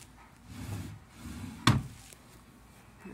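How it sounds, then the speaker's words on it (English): A dresser drawer in a furniture store slides along its runners with a brief scraping rumble, then shuts with a sharp, loud thunk before quiet store ambience returns. "These drawers don't really slide like I like them to."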